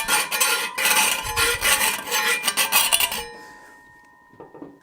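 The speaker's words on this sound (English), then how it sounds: "Really good file for getting into some tight areas and cleaning and smoothing up these edges." An 8-inch file rasps back and forth along the edge of a template in quick, close strokes for about three seconds, then stops, leaving a faint ringing tone and a couple of light scrapes.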